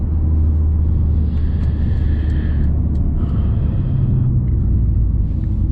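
Cabin of a 2019 Mercedes A180d sedan at night, a diesel engine and steady low road rumble droning continuously and fairly loud, with faint higher whines coming and going on top.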